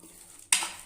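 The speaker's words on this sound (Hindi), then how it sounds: "अब हम इसको मिक्स करेंगे।" Gooseberry pickle mixture with salt and mustard oil being stirred, a quiet lull followed by a sudden close, bright burst of stirring and oily sizzle that tapers off over the last half second.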